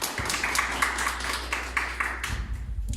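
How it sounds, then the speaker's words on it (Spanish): A church congregation claps together in a short burst of steady applause, fairly close and lively, fading toward the end with a low rumble underneath. "Dale un aplauso al Señor por eso."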